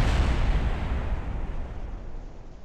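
A heavy, booming explosion in the video game Kerbal Space Program that rumbles and slowly decays over a few seconds, loud and deep with no voices.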